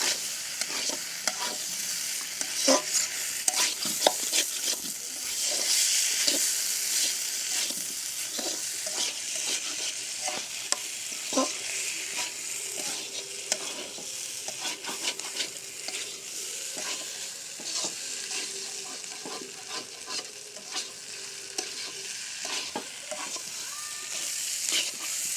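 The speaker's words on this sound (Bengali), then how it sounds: "তারপর আলুর সঙ্গে পটলগুলো একটু নাড়াচাড়া করব।" Potatoes and fried pointed gourd are stirred in a pan for a curry with boiled potatoes and eggs, giving a steady run of scraping and stirring over a continuous sizzle, with no talking.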